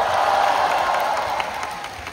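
Audience applause at a T-ara fan meeting in Hong Kong: a dense wash of clapping from a crowd, loud at first and tapering slightly over two seconds.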